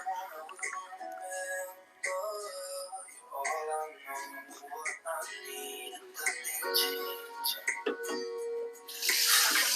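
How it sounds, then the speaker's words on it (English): Water poured into a cooking pot for a one-pot brown stew beef, a brief rushing splash rising loudly near the end, following a stretch of clattering and tonal kitchen sounds. "we're gonna add some water in that pot"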